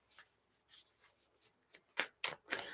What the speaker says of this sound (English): Maybe I should shuffle.